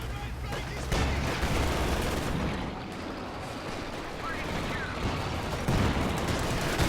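Game gunfire from a Company of Heroes 2 battle, with dense, continuous rattling bursts and booming impacts layered under a voice, loud and busy throughout.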